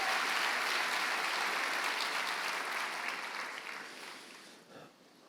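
A church congregation applauds during a Sunday morning worship service: dense, steady clapping from many hands that holds strong, then thins and fades away toward the end.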